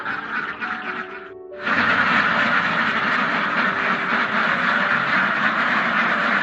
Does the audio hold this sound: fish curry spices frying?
no